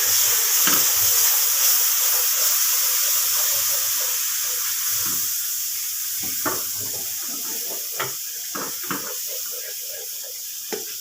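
Milk poured in small amounts into a homemade white sauce while it is stirred in a pan: a steady bright hiss and simmer, with soft scattered clicks and scrapes of the spoon that grow sharper toward the end.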